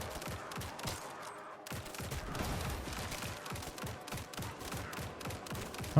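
Rapid, dense gunfire from submachine guns in the top-down looter shooter Grind Survivors, with overlapping shots rattling steadily across the whole stretch and no talk.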